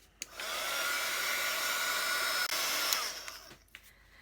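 A hair dryer blows steadily and close up, drying a junk journal page, running for about three seconds with a few faint clicks and taps near the end.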